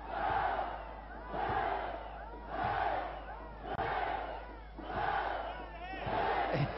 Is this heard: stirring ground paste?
no